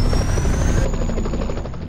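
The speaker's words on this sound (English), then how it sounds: "I'm fairly certain you can take down this helicopter." Helicopter in the video game Messiah, a loud continuous rotor thump with fast rhythmic chopping, close and steady throughout, with no voices over it.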